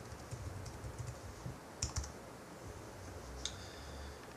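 A computer keyboard being used to type a router password, heard as a few faint, sparse keystroke clicks over a quiet background.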